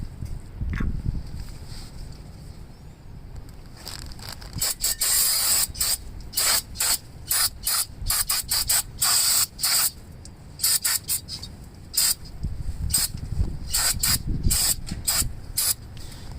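Brake parts cleaner sprayed onto old rear brake parts of a 2012-2015 Nissan Sentra, loud bursts of aerosol hiss in repeated short and long blasts, with faint clanking of parts between sprays.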